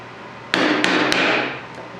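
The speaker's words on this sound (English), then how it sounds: "I also needed to square out the corners using a chisel." Chisel struck sharply into the wooden corner of a shelf being squared out: three quick close hits in under a second, each followed by a brief ringing decay, then one faint tap.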